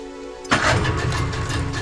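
A boat engine on the Vaal River in South Africa cranks and catches abruptly, then settles into a steady, loud running rumble with broadband noise.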